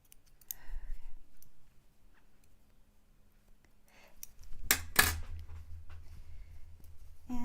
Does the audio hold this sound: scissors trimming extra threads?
yes